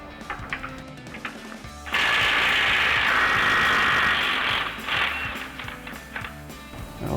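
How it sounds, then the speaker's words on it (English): A 24mm socket on a power tool spins off frame rail bolts on a Silverado 2500 pickup: one loud, steady whirring burst of about three seconds, close by, with quieter workshop noise before and after and no talking. "we're going to use our 24mm socket to get those off"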